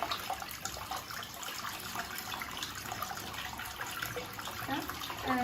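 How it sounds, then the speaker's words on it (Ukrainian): Water rushes steadily into a rimless toilet bowl as it flushes in a newly finished bathroom, a continuous close splashing wash with no voices. "От Зараз зілью водичку."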